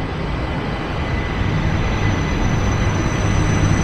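A loud, steady rumble of an LRT Jabodebek light-rail train arriving at a station, with a low mechanical drone and faint high whine, continuous throughout.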